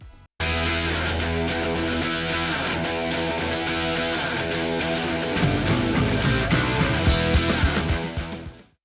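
A song plays as a loud, dense rock excerpt with distorted guitar and bass. Partway through, the drums come forward with the drummer's unison double-stop hits in quarter-note triplets, heavy crashes, and busy fills near the end.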